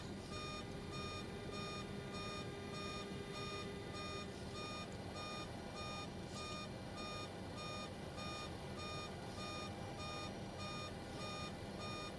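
A steady, repeating electronic alarm beeps without pause in the cockpit of a Boeing 727-200F freighter in Microsoft Flight Simulator, with a constant low cabin hum underneath and no talking.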